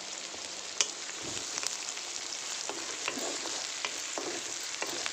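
Onions frying in a pan for a prawn curry, a steady broadband sizzle with occasional stirring clicks and scrapes, close and continuous with no talk.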